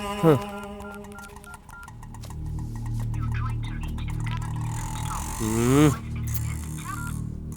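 A quick run of telephone keypad dialing tones, short beeps in sequence, followed by steady background hum and a rising electronic tone near the end.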